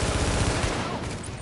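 Rapid gunfire rattles in a dense, loud fusillade during a shootout in The Division, a brief burst of overlapping shots.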